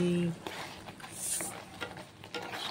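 Masala paneer being stirred in a frying pan with Kashmiri chilli powder, a spatula scraping in short strokes over a soft sizzle, quiet and close, with a few light metallic clinks.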